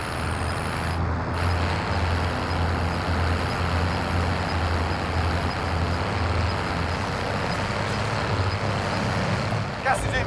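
A vehicle driven in Call of Duty: Modern Warfare, a steady low engine rumble and road noise running throughout, fairly loud and unbroken, with a brief click near the end.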